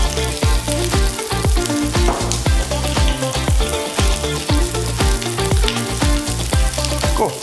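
Salted and peppered fish searing in a pan, a loud, dense sizzle with rapid crackling spatter throughout, close and continuous with no voices.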